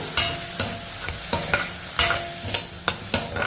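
Tomatoes sizzle gently in a pan while a utensil scrapes and stirs in regular strokes, about eight distinct stirring sounds.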